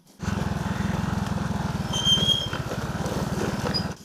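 A loud motorcycle engine thrums with a steady, rapid pulse on a mountain road in the highlands of Ilocos Sur, close by and continuous for several seconds with faint high squeaks above it.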